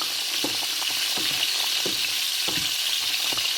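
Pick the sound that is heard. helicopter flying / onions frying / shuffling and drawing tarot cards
onions frying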